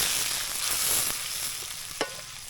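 Onion and tomato aromatics sauté in a pan, a steady close sizzle with a few soft stirring scrapes and a small knock near the end.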